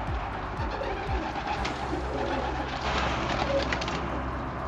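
Budapest highflyer pigeons coo softly and steadily at close range in a loft, with faint low rumbling in the background and no talking.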